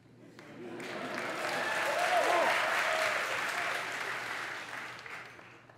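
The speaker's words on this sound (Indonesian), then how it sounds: "Tepuk tangan untuk Georgetown Uni." A lecture-hall audience at Georgetown University in Washington, D.C., claps steadily for several seconds, the dense clatter swelling to a peak midway and then tapering off slightly, with faint voices mixed underneath.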